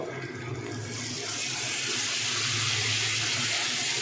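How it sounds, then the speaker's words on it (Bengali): Water pours steadily into a cooking pan of simmering pointed gourd, a broad rushing splash that swells and holds for several seconds. "এবারে দিয়ে দেবো জল।"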